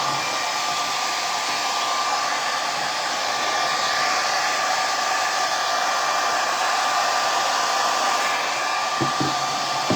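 A hair dryer blows continuously at close range to dry the top coat on a handmade craft gift, giving a loud, steady roar that lasts the whole time, with no voices.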